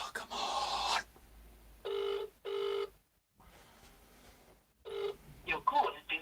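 An outgoing phone call ringback tone sounds as two steady, evenly spaced buzzing bursts, moderately loud, between stretches of quiet line noise and other brief sounds.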